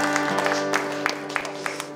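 A small crowd gives brief, scattered applause for a solo performer at a political café event in the Netherlands. Uneven claps rise and fall over a low steady hum.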